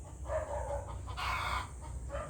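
A Brahma hen clucks nearby in a cramped backyard, a few drawn-out vocal calls in quick succession over a low steady background hum, with no talking.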